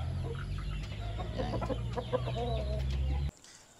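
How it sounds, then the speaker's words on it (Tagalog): Caged chickens cluck and squawk in a steady chorus over a constant low mechanical hum, which cuts off abruptly near the end. "Kunting pasip lang dito sa ating mga mamahaling manok. Nasa kulungan sila."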